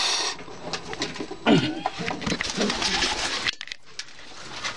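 Kaldam pigeons coo inside a loft of breeding boxes, soft repeated calls rising and falling in a busy, close mix of fluttering and movement, with a brief quieter gap near the end.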